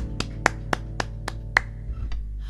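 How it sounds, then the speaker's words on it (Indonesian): A church congregation clapping during worship, heard as about seven distinct, evenly spaced claps with a low steady hum beneath, fading out near the end. "tepuk tangan yang paling meriah saudara."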